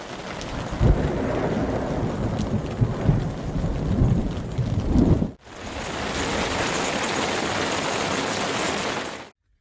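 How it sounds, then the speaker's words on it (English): Steady heavy rain with rumbling thunder at an outdoor camp in Arizona, a dense continuous roar that cuts briefly midway and then resumes just as loud, with no talking. "Well, Jim may get his wish for cold and rainy after all."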